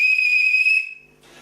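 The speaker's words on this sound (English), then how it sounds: "Okay, on my whistle, let the game begin." A referee's whistle gives one sustained shrill blast lasting under a second to start a game, loud and clear, then cuts off into faint room noise.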